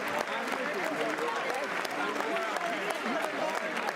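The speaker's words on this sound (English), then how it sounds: "They're just clapping and chatting right now." Applause fills the State of the Union chamber, a dense, steady wash of clapping from a large crowd with murmured chatter mixed in, heard at a moderate distance.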